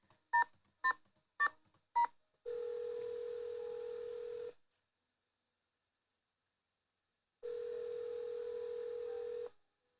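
A phone number is dialed in the Nancy Drew game Stay Tuned for Danger: four quick touch-tone beeps, then two long ringback tones separated by silence, clean and alone.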